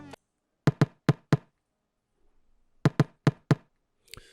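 A very light kick drum sample from an Afrobeat production plays alone: two groups of four soft, deep thumps separated by a pause, slightly off a strict grid, then a brief faint noise at the end.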